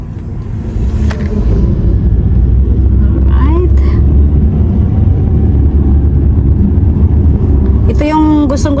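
Steady low engine and road rumble from inside a car travelling on a road in Fukui, Japan. The rumble continues throughout, close and fairly loud, with brief bits of talking over it.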